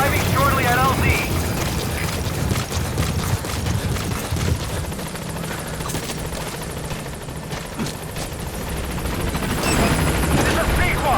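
The B-Quad helicopter from Metal Gear Solid V arriving at a landing zone, its loud whirring rotor chop steady throughout, mixed with bursts of gunfire, and radio voices talking over it.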